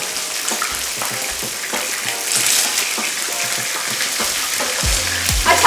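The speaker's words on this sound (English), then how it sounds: "is just lightly pan fry the fish. So this being fish will fry very, very quickly." Fish pan-frying sizzles with a dense, steady crackle, broken by a few dull knocks and clatters of a pan or utensil.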